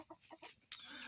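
Ameraucana chicken giving a few soft, close clucks in a short burst, followed by one sharper note, with faint background hiss and no talking.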